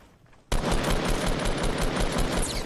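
Rapid automatic gunfire from the Fortnite video game bursts in after a short quiet start, a loud, steady stream of shots with no talk over it.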